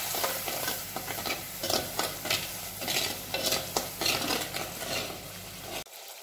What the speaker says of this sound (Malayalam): ഇനി കുറച്ച് തിളച്ച വെള്ളം ഇതിലേക്ക് ഒഴിച്ചു കൊടുക്കാം